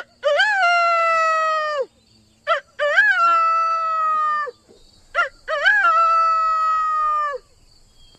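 A rooster crows three times in a row, each long drawn-out call loud and close, separated by brief pauses with short clipped notes between.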